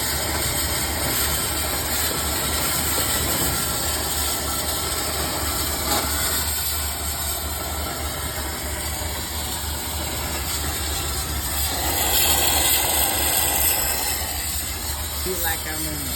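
A steam engine runs at a thrashers reunion with a continuous loud hiss and mechanical chuffing, broad and steady throughout, with faint crowd noise behind it.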